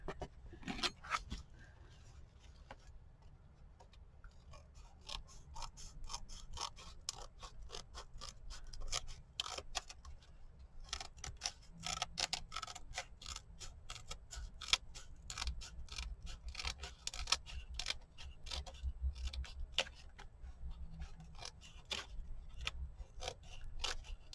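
Scissors trimming scrapbook cover material, giving a steady run of close, crisp snipping and scratchy cuts that continues through the stretch with no talking.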